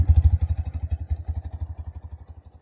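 A cold 1990 BMW R100GS Paralever flat-twin motorcycle idles close by without choke while warming up, with a rapid, even chugging pulse that gradually softens over a few seconds.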